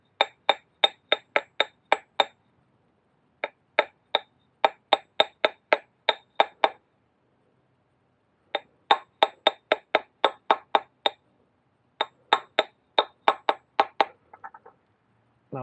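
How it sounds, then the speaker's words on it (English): Sharp metallic hammer taps ring out in quick rapid bursts as a transmission shaft seal is driven in, pausing between groups, close and fairly loud with no talking. "hammer it in"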